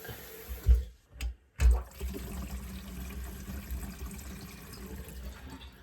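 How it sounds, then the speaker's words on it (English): Water runs from a newly installed sink faucet as it is filled to check for leaks: a few brief surges, then a steady, close rushing flow. "Let's fill it up and we're gonna check for water leaks."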